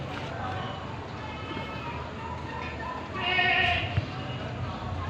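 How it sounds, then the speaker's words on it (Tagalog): A sheep bleats at a farm kept with sheep, goats and horses, one short wavering call near the end, moderately close over outdoor background noise, with a voice audible around it. "andito yung mga tupa, maraming tupa"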